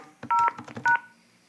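Two short, clear telephone keypad beeps from a T-Mobile voicemail password entry, separated by a brief pause over a quiet line.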